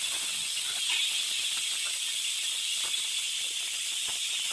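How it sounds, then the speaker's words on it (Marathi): A pressure cooker vents steam while mutton cooks inside, giving a loud, steady hiss that runs unbroken for the whole stretch with no voices. "आपण इथे मटण शिजायसाठी 7 ते 8 शिट्ट्या घेऊन घेतलेल्या आहेत"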